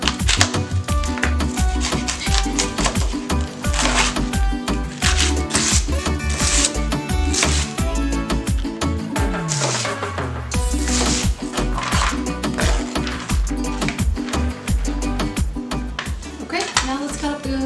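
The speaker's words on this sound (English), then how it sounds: "So I like to start cutting up the cabbage first." A knife chops red cabbage on a cutting board, a fast run of crisp, close cutting strokes mixed with some background music and light clatter.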